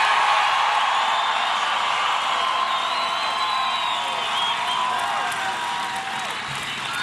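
A large evening crowd at a Mitt Romney campaign rally in Englewood, Colorado, cheers and applauds continuously, a dense roar of clapping with whoops and shouts mixed in, loud and sustained throughout.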